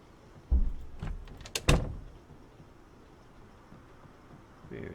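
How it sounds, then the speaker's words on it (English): Zombie knocking on a wooden door in the game Project Zomboid: a few heavy thuds in a loose cluster, then quiet room tone. "Is he knocking on that door, is he?"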